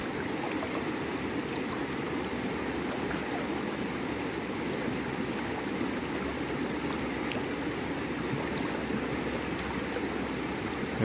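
Flowing water of the Salmon River in New York, a steady broadband rush and gurgle of current that stays even and close throughout, with no voices.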